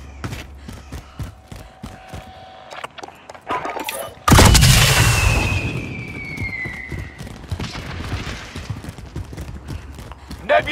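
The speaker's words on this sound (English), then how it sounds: "Nebula 5 bomb has detonated in the distance." Distant Nebula 5 bomb detonation in a war video game: a sudden heavy blast after a stretch of clattering, tapping noise, followed by a long rumbling roar and a falling whistle-like tone that fades slowly.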